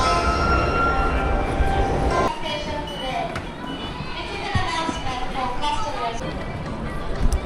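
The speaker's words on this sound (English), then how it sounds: "That has to be the comfiest train I have ever been on in my life." Interior of a Tokyo Metro train in motion, a moderate rumbling hum with rail noise and a noticeable drop in level partway through as the ride continues, while people talk nearby.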